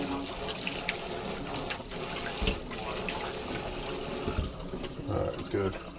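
Hands are washed under a running kitchen tap before cooking a pot roast, with water splashing continuously and fairly close throughout.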